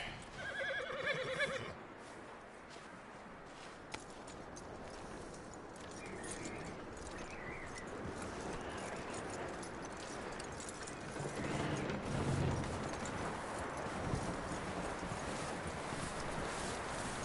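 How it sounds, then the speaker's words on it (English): A horse in a video game whinnies near the start, then its hooves clip-clop steadily amid mechanical clanking and background game ambience, with no voices. "That looks like a decent horse."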